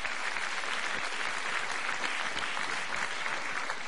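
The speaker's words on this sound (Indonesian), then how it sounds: "Kita berikan tepuk tangan untuk Presiden SBY." Audience applauding for President SBY at a gathering, a steady dense wash of many hands clapping continuously throughout with no voices on top.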